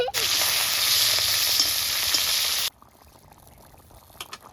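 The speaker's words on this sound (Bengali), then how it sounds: "এখন আমি মাছগুলো ভেজে নেব।" Loud, dense hiss of fish frying in hot oil that cuts off abruptly partway, leaving only faint background clatter afterward.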